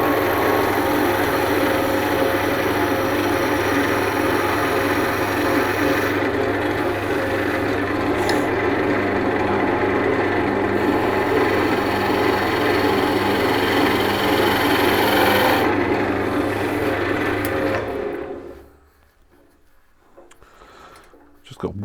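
A wood lathe spinning a workpiece while a skew chisel takes a planing cut, a steady loud motor hum with a rough hiss of cutting that runs for most of the time, then the machine winds down near the end.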